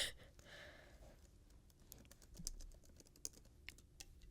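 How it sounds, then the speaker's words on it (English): Quiet typing on a computer keyboard, a quick run of soft, irregular key clicks and taps, close but faint, with a breathy sigh near the start. "Lovely little ASMR typing."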